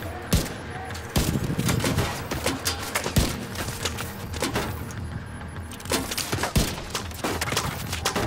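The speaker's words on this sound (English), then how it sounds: "Who's shooting at me?" Gunfire in The Division 2: scattered sharp shots and rapid bursts crackle steadily across the moment at mid distance, with no clear voices over them.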